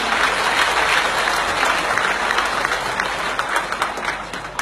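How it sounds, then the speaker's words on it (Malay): Warm, sustained audience applause greets an honoured guest at a Malay ceremonial welcome, a dense wash of many hands clapping steadily and loudly throughout. "Tepuk tangan yang hangat."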